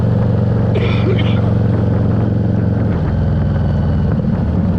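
A Harley-Davidson Street Rod 750 motorcycle being ridden at about 80 km/h gives a steady, loud low engine drone beneath heavy rushing wind noise throughout.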